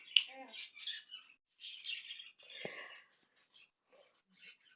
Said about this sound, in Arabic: العصافير بتاعتنا مش عايزة تسكت